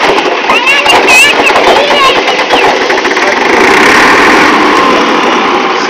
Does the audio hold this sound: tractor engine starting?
yes